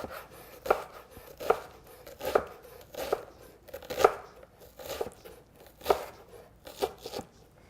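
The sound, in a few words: knife dicing an onion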